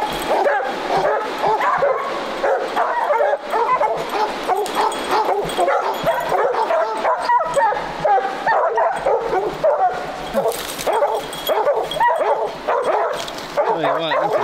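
Several hunting hounds bark and bay almost without pause, loud and close, with yips and whines mixed in, while trailing a bobcat through rough creek country.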